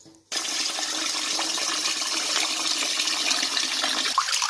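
Strong steady stream of tap water running while round rice is washed for cooking, starting abruptly after a brief quiet moment and continuing as a loud, even rush with faint splashing near the end.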